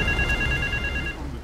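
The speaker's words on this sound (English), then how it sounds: "now there's that phone that's ringing as well" A telephone ringing in GTA III, a steady electronic trill with repeated bright tones that continue for about a second before cutting off, loud over a low background hum.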